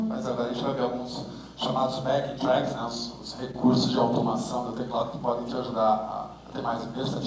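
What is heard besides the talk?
No distinct noise like a dog, phone or traffic.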